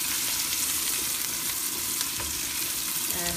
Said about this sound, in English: you just brown the onions as much as you want